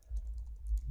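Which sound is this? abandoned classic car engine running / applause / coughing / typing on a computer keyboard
typing on a computer keyboard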